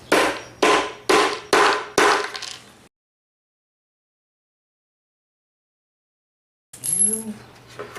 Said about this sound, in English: So we're going to hammer these in.